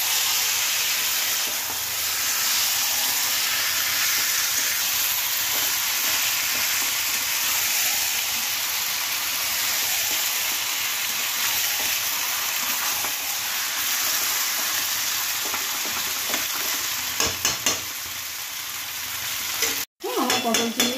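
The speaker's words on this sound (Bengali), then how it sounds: "এবার আমি আলু, পটল, চিংড়ি মাছ দিয়ে দেবো, দিয়ে একটু নেড়ে নিয়ে জল দেবো।" Potatoes, pointed gourd and prawns fry in hot oil for a Bengali potol chingri curry, giving a steady loud sizzle and hiss with scraping stirs, ending in a sudden clatter.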